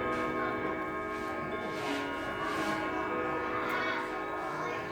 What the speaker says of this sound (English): There's a Winchester chime